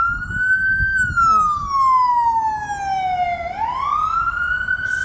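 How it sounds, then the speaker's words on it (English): An emergency vehicle siren wails on a Washington DC city street, its loud tone sweeping slowly down and back up over steady traffic rumble, with no one speaking. "Sirens all the time, drives me crack a bang. If it's not fire engines, it's police cars or whatever."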